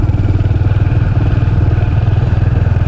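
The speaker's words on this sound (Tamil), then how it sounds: "நம்ம பேசுகிறது நம்ம வண்டியோட சத்தம் மட்டும்தான் இருக்குது." Motorbike engine on a forest road, a loud, close, steady mid-pitched drone with a rapid regular thumping pulse and no speech over it.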